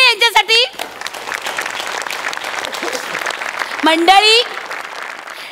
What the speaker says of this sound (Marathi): या जोरदार टाळ्या आपल्या समीर चौगुले यांच्यासाठी.